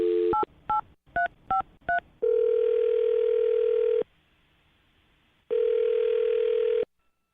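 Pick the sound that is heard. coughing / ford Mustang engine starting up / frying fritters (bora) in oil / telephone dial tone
telephone dial tone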